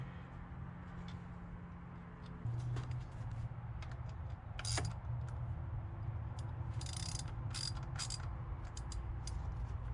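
Ratchet clicking in short bursts as a bolt is tightened on the idle air control valve of a 2000 Mustang GT, close by over a steady low engine hum, with no talking.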